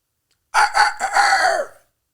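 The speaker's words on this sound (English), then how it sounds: "when the DJ drop it, you hear that rooster" A single loud rooster crow, close up, rising in a few quick notes and then holding a long drawn-out final call, with silence around it.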